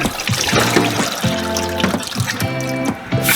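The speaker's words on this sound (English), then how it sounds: "After it sits in the vinegar water for a little bit, just drain that." Vinegar water trickles and drains steadily from a container in a continuous splashing flow, close up, with no voices.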